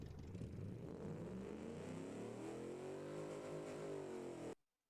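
A steady Toyota truck engine hum close by, its pitch sweeping gradually upward as though revving, then cutting off abruptly into silence.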